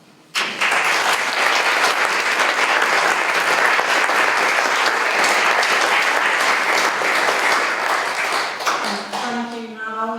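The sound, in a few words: audience applause after a debate closing statement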